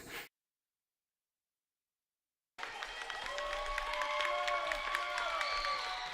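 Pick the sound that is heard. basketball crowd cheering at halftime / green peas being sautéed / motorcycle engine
basketball crowd cheering at halftime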